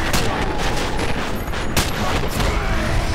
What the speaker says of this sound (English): I shot him like 5 times and it just went through.